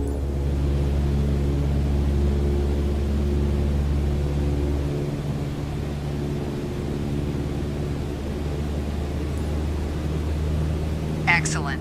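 Airplane engine at 2,300 RPM in Microsoft Flight Simulator 2020, a steady droning hum that holds level throughout and drops slightly partway through, with a voice talking over it.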